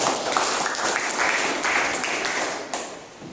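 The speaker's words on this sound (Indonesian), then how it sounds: "berikan tepuk tangan" Applause from a group of people, a dense burst of clapping that holds steady, then thins and fades near the end.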